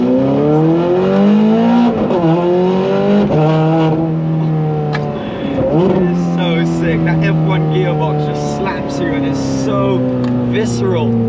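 Ferrari 430 Scuderia, 550 horsepower, with a Capristo exhaust, revving and shifting through gears with a loud, sharp wail that repeatedly climbs and drops, close by, and someone speaking over parts of it.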